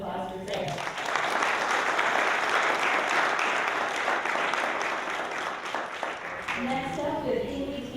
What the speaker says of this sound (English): Let's have a big round of applause for Craig.